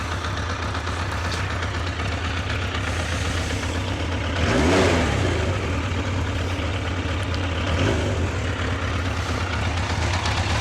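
An aging Yamaha FJ1200 motorcycle engine idles with a steady mechanical rattle, then is revved up twice in brief swells before settling back to idle, heard close with no voices.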